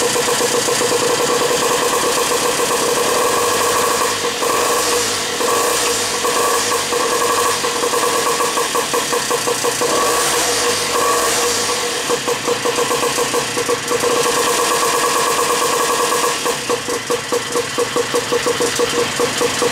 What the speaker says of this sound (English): this is a snowblower engine